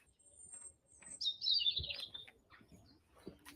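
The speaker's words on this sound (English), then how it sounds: "Can you hear the birds?" Small birds chirp and trill faintly outdoors in Cotswolds countryside, with a short burst of bright song in the middle and a few scattered calls against quiet surroundings.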